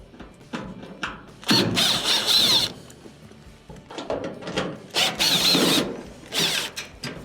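Phillips screws being unscrewed from the top panel of a clothes dryer, close ratcheting and mechanical clicking in several bursts with brief pauses, no talk.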